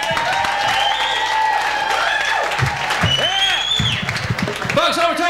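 A comedy club audience applauds a comedian, a steady clatter of clapping running under a loud amplified MC voice that talks over it the whole time.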